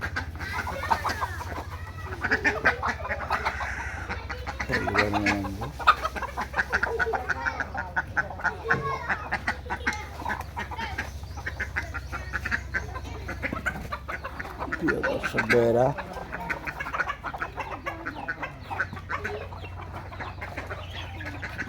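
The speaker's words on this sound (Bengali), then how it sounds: "এখন আমার বাড়িতে অনেকগুলো মুরগি আছে" Desi chickens on a home farm, clucking and calling near and far in a continuous chorus, with ducks quacking among them and a brief word spoken.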